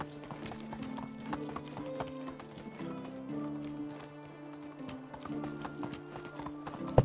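Horse hooves clip-clop steadily along a road in the medieval survival game Medieval Dynasty, a continuous rhythmic trot over layered game music, with a brief whinny-like sound.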